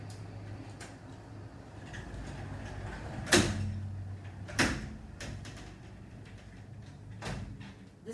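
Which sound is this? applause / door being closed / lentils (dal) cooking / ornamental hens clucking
door being closed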